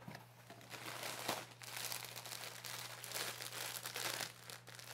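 Individually wrapped plastic bags crinkle and rustle as a resale sourcing haul is unpacked, close, irregular crackling bursts that swell and fade over a low steady electrical hum.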